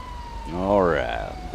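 Police car siren in GTA 5, a rising and falling electronic wail that sweeps up and back over under two seconds, loud and close against a low engine rumble.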